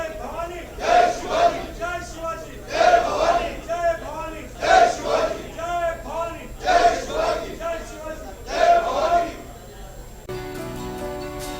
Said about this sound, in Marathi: विधान भवनाच्या पायऱ्यावर सत्ताधाऱ्यांचा जल्लोष सुरू आहे